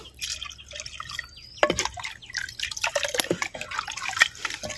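Water splashes and trickles into a pot of raw mango rasam in uneven bursts, close and moderately loud, with no voices.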